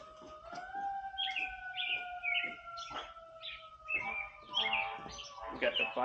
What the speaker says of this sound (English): We got the fireman wee woos going, and a lot of birds.